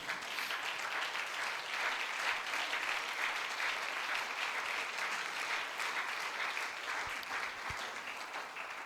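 A church congregation applauds steadily and warmly during a Spanish-language sermon, a dense wash of clapping that holds its level for several seconds with no talk over it.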